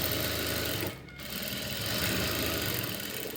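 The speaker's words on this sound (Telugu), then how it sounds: "ఇలా లైనింగ్ మీద పడేటట్టు కుట్టు వేసుకోవాలి" A sewing machine stitches onto lining fabric for a shape belt, giving a close, steady mechanical whir with a brief dip and pause before the stitching picks up again.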